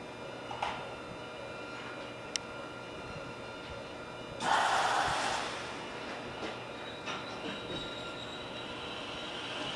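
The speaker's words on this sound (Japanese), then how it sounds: "1番乗り場から回送列車が発車します。" An out-of-service train departs from platform 1 at a Japanese railway station: wheels rumble and clatter steadily, with a sharp burst of squealing midway, then the rolling sound fades.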